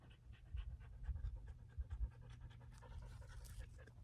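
A dog named Spud pants close by in a quiet desert in Quartzsite, rapid rhythmic breaths with a faint low hum behind.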